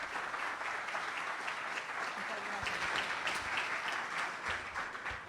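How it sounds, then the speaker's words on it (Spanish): An audience at a public accounting lecture applauds the incoming speaker, a steady, even wash of clapping from a room full of people, with a faint voice beneath it. "Fuerte aplauso, por favor."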